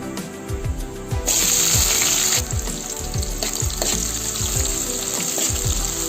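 Sliced onions frying with fennel seeds in hot oil for a Chettinad crab gravy, a steady sizzle under a rhythmic run of spatula scrapes that surges louder midway as the pan is stirred, with no talking.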